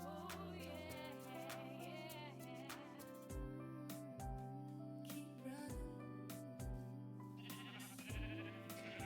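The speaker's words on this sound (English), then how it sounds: "There's a gray sheep." Sheep bleating in the Minecraft video game, a gray sheep among them, with repeated short bleats over steady game music and ambient sound, no talk.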